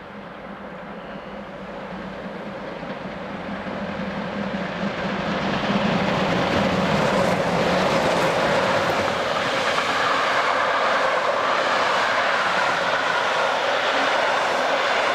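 A model steam train rumbles steadily across a long high bridge, growing louder over the first few seconds, then holds a heavy, continuous roar of rolling wheels and engine.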